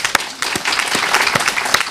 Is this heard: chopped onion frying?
no